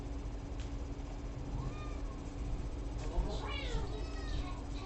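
A cat named Pepper gives one or two short meows over a steady low room hum, with no talk during the cries.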